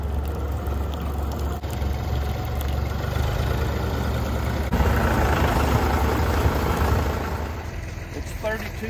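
Small tractor engine running on an icy ranch, a steady low rumbling idle that continues throughout with a slight rise in intensity midway, close and fairly loud.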